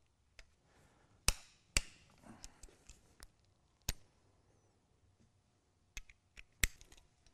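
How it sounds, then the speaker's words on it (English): 3/8 bolts on a supercharger bracket being torqued with a hand wrench on an LT1 Firebird, sharp scattered metallic clicks and ticks, close and fairly loud against a quiet background. "we're going to go ahead and torque our 3/8 bolts down to"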